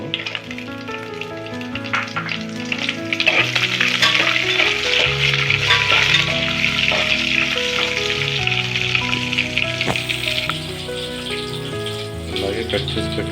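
Green chilli slits and chopped onion fry in hot oil for a chicken dum biryani, a loud steady sizzle with crackles, and a voice talks faintly over it.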